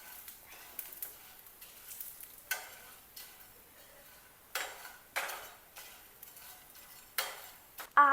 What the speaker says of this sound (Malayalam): അപ്പോൾ ഗൈസ്, നമുക്കിതിങ്ങനെ ഇളക്കി കൊടുക്കാം